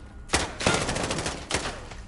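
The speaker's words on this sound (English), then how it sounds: "They're shooting at somebody." Gunshots crack in the Call of Duty Modern Warfare 2019 campaign on hardened difficulty, a few sharp close bursts of rifle fire separated by brief pauses.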